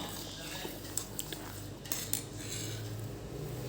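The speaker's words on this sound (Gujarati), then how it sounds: "આવી રીતે એને બીજી અડધી મિનિટ થોડુંક હલાવવાનું" Milk and vinegar are stirred in a metal pot to make paneer, with light scraping and a few faint spoon clinks over a low, steady kitchen hum.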